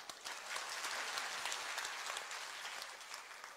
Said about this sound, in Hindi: अरे करवा दी थी तो ताली बजाओ